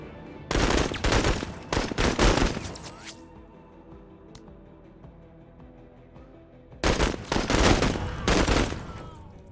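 Gunfire in the tactical game Menace: two long, loud bursts of rapid automatic shots, separated by a quieter stretch with a single sharp crack in between.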